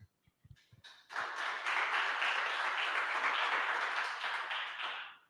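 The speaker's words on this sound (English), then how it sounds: "A round of applause, please." An audience applauds a presenter at a talk comparing the Plone and Drupal editing experience. A few isolated claps come first, then dense, steady clapping fills the room for about four seconds and fades out at the end.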